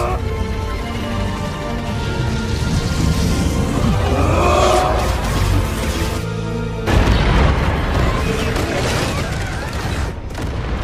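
A dense, roaring burst of blasts and rumbling from a cosmic explosion in an animated film, with a sharp boom partway through followed by crackling debris and a noisy tail.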